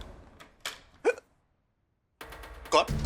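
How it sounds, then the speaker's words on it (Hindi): A man hiccups several times in short, sharp, clipped bursts with uneven gaps, close and fairly loud, then brief silence before voices and more hiccups resume. "अरे आपको तो हिचकी आ रही है"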